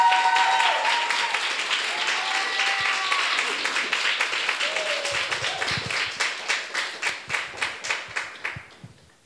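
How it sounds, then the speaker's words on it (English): A studio audience claps to welcome guests onto a stage, giving sustained, dense applause that thins into a few slower, distinct claps before stopping, with little talk. "Round of applause for them."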